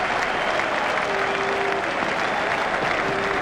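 A large crowd at a T20 World Cup cricket match between West Indies and Zimbabwe applauds a boundary shot with loud, sustained clapping and cheering that fills the whole stretch.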